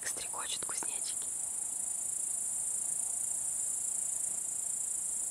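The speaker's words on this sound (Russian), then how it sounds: "слышите, как стрекочут кузнечики" Grasshoppers chirp in a steady, continuous high trill outdoors, moderately loud and unbroken, with a few brief faint rustles near the start.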